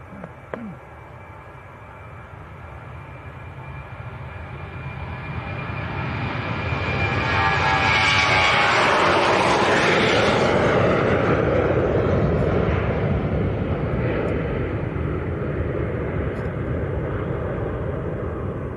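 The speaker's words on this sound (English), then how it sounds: "here goes Ryanair to Riga." Ryanair jet airliner departing Leeds Bradford Airport for Riga, a roaring engine noise that swells steadily to a loud peak mid-way and stays strong as it passes, alone without talk.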